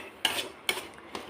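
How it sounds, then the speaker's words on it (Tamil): A spoon scrapes and clinks against a pan three times at a steady interval while carrot halwa with sugar is stirred over low heat, close and moderately loud with quiet gaps between strokes. "இப்போ வந்து கிளறிக்கிட்டே தான் இருக்கணும்."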